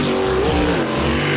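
A jet sprint boat engine roars loud and steady at a race meeting in Meremere, Auckland, its pitch shifting as the throttle changes under a dense, continuous roar.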